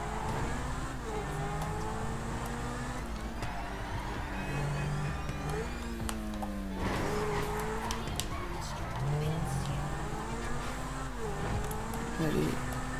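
A fast car engine in a racing video game, the Zone Tornado, whines and shifts pitch continuously across the whole stretch, rising and falling with acceleration over a dense backdrop of other game sounds.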